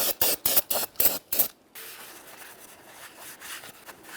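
Wire brushing of a brake rotor's mating surface on a 2009-2014 Nissan Maxima gives six quick rhythmic scrubbing strokes up close. A faint, softer rubbing follows.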